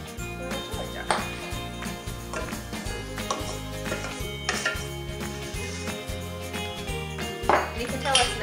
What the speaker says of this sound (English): So now we're just gonna transfer it from the bowl into the jelly jar.